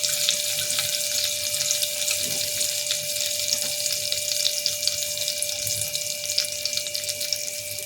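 Chopped garlic sizzling in hot melted butter in a pan, a steady close hiss and crackle that runs continuously with no talking.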